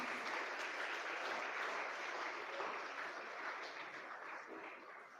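Parents applaud at a school prize-giving ceremony at St Xavier's ICSE in Vasai. The clapping is faint and distant, a soft continuous patter from a crowd that slowly fades.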